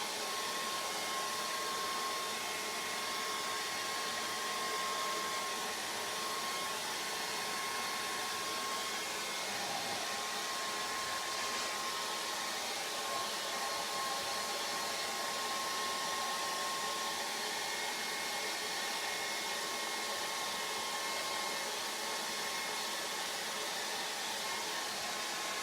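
A hair dryer blows steadily over a watercolour and Indian ink painting, a continuous even airy roar with a faint whine that carries on unbroken and alone for the whole stretch.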